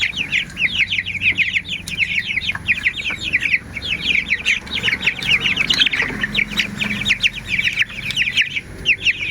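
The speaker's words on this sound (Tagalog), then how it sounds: "10 piraso po yan na sisiw para po sa birthday at binyag po ng aking apo" Ten young chicks of a backyard flock peeping, a dense, continuous chorus of high, rapid cheeps close by with occasional clucks and faint handling noise.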